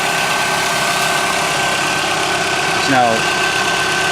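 A Chevrolet Kalos engine idles steadily after a timing belt replacement, a loud close hum with a brief rise near the end, while someone speaks briefly over it.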